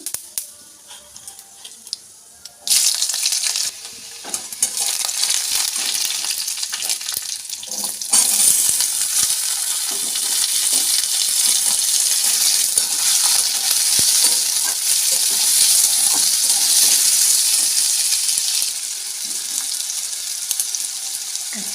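Potato curry frying in a pan with salt and turmeric, a steady loud sizzle that sets in after a few seconds, with scraping stir strokes and some water or tap sounds mixed in.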